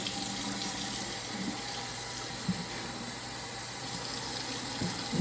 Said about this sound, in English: And now we're gonna put some warm water.